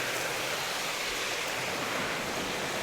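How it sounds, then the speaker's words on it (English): Rushing water from a fast stream and a small waterfall on a fall hike, a steady, loud broadband roar with no pauses, close by and alone. "There's a lot of water coming through. Maybe you can see the little waterfall there."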